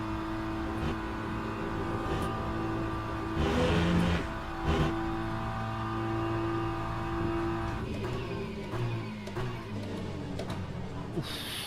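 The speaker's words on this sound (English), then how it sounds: "It feels like driving a BMW GT3s." A BMW GT3 race car in a sim racing game roars steadily at high revs, its engine note holding and shifting as it accelerates, loud and continuous throughout with no talking.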